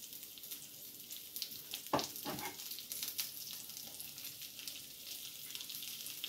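Green onion sizzles as it fries in a pan, a faint, steady crackle with a brief louder clatter as it drops in, continuing softly on its own without any voices.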